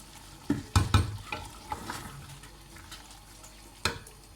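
Rice is poured into a pot of beef and potato pulao, making a burst of clattering thuds and rattles early on that settles into a gentle hiss, with one more knock near the end.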